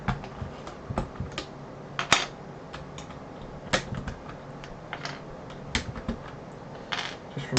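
Plastic keycaps clicking onto mechanical keyboard switches on a Clueboard build, a series of sharp close taps and snaps in irregular bursts, with faint background noise between.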